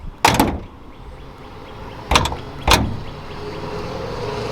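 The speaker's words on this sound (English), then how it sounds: "little things like the hood closing, I'm gonna close this for y'all so y'all can check that out" Hood of a 1976 Buick Century Custom slamming shut, three sharp, loud metallic thuds with the first standing apart and the last two close together, each leaving a short ringing tail over quiet outdoor background.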